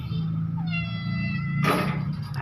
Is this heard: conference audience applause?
no